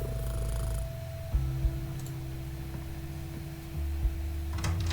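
A cat purrs in the video game Kathy Rain 2: Soothsayer, a steady, close, low rumbling purr with a faint hum and no talk over it.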